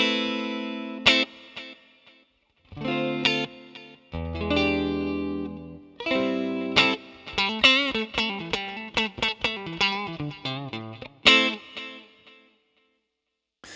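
An electric guitar played through a Fractal FM3 delay effect sounds clean picked notes and chords, each trailing into distinct repeating echoes that decay, with short melodic runs and pauses between phrases.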